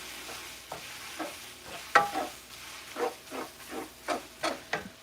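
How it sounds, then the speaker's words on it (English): Seafood seasoned with Old Bay is stirred in a pan, with a steady run of scraping, rhythmic strokes close by and a soft sizzle underneath. Nobody speaks. "Stir it up."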